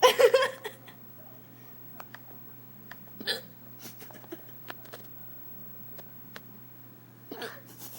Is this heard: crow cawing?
no